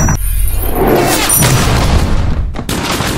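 Loud gunfire rings out amid a dense, booming wash of noise, with sharp cracks and rumbling echoes filling the scene.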